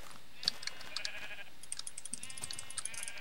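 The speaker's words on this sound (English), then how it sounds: "There's another freaking sheep." A sheep bleats in a Minecraft-style video game, a short call early on, accompanied by light clicky keyboard-like taps scattered through the rest.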